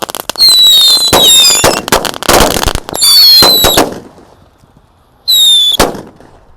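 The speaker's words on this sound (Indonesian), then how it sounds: "menyalakan mercon buntelan kertas di dalam tanah dan menyalakan banyak sekali mercon buntelan kertas sekaligus" Paper-wrapped whistling firecrackers, many lit at once and buried in the ground, go off in loud close bursts of crackling pops with shrill rising whistles, a short pause, then one more whistling burst.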